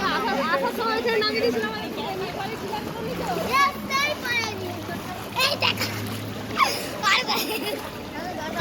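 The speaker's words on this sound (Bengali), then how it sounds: "সবাই কিন্তু জল পেরাচ্ছে সবাই জল পেরাচ্ছে" People wading through knee-deep floodwater on a road lined with submerged houses, with scattered splashes and sloshing under steady chatter and children's voices nearby.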